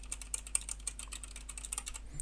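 Keys rattle on a computer keyboard during a game, a quick irregular patter of soft clicks picked up by an MSI Maestro 300 USB gaming headset microphone, quiet and close with a low hum beneath.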